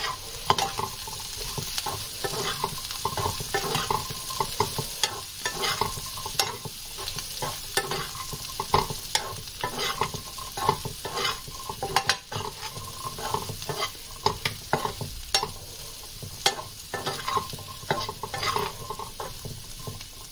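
Chickpeas and pakoris with chaat masala and spices cook in a pan, giving a steady close sizzle with frequent scraping stirs and light clinks of a spoon against the metal, continuous throughout.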